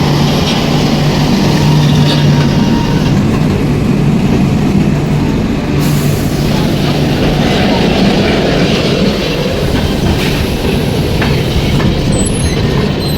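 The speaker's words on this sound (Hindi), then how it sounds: "तो ये न्यू जलपाईगुड़ी का खूबसूरत सा डिपार्चर हम लोग देख रहे हैं।" The Rajdhani Express pulls out of New Jalpaiguri station with a loud, steady rumble of rolling railcars, wheels clattering over the track and a faint squeal, heard close and continuous.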